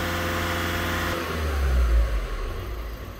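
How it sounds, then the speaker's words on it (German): An Audi A3 engine running during a vehicle emissions inspection, idling steadily, then a sharp throttle blip that surges loudly and falls back, heard close up without talk. "So, jetzt kommen drei Testgasstöße, einen hat er schon."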